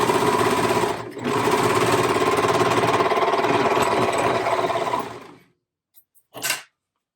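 Sewing machine stitching through a sweatshirt neckband, a rapid steady whirring hum for about five seconds, then stopping, followed by a couple of brief faint clicks and a short burst of motor noise near the end.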